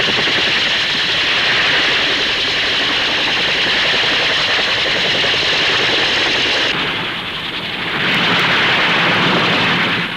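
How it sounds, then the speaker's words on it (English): Rotodyne compound helicopter airliner flying at the 1959 Farnborough Air Show, a loud continuous roar of rotor and engines that dips briefly near the end before swelling again, with no talk. "the Rotodyne goes through its paces"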